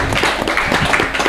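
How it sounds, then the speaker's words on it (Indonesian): An audience claps during an Indonesian DPRD podcast talk show, a brief burst of steady, dense clapping at close range. "tepuk tangan pemirsa."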